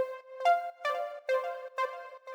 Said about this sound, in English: For the lead, I loaded up this preset that sounds like this